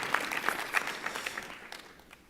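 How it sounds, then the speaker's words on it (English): Audience applause at the Sikh Awards 2017 ceremony, a scattered, modest burst of clapping that thins out and fades over about two seconds. "I think that's worthy to clap to"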